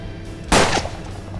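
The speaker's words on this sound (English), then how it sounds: "Shooting inquisitors and nuns." One loud, sharp gunshot from the Wild West video game Hard West, with a quick decaying echo, standing out sharply against a quiet background.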